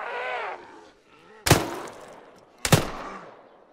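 Gunfire in the military video game Arma 3 comes as two sharp, loud shots about a second apart, each trailing off in a short echo, after a brief moment of a voice.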